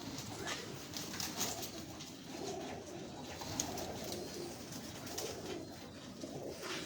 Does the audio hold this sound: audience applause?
no